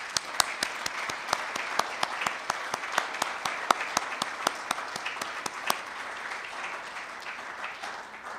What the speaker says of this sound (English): let us recognize this fine group of individuals with a round of applause